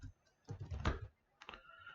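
Keys clatter on a computer keyboard as a PowerShell command is entered, two quick close bursts of tapping separated by a brief pause, fairly quiet and alone.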